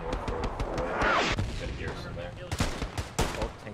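An MG42 machine gun fires in Hell Let Loose amid a busy battle, with repeated sharp bursts and shots near and far, under players talking.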